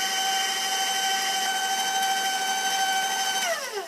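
A close electric mixer beats chocolate chip cookie dough in a steady, even whir for several seconds before slowing down near the end; no voices.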